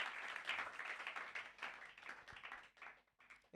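A church congregation applauds and cheers the Lord during a worship service, with dense, sustained clapping that swells and dips for several seconds.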